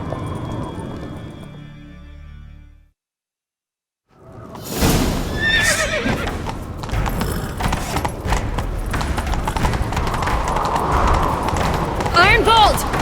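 Horses neighing and galloping in The Witcher 3, with loud whinnies and rapid clip-clop hoofbeats after a brief silence. Voices from the game speak over the opening.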